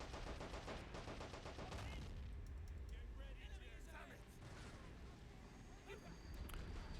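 Field howitzer fire in Men of War: Assault Squad 2 rumbles among dense battlefield gunfire, with several heavy booms and crackling shots filling the clip, loud and continuous.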